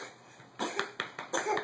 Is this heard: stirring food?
no